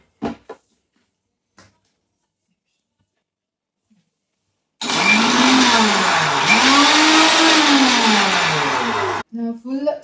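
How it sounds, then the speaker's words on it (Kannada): A mixer grinder blends muskmelon for a milkshake, a loud steady whirring roar with wavering pitch that runs for several seconds after brief knocks, then stops abruptly before a short burst of speech. "ಇದನ್ನು ಫಸ್ಟ್ ಹಿಂಗೆ ಮಿಕ್ಸಿ ಮಾಡ್ಕೊಳ್ಳಿ"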